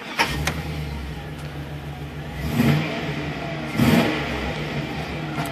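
A 2003 Chevrolet Silverado HD engine cranks and catches, then settles into a steady idle. The engine is recorded up close, and two rising revs swell and fall back.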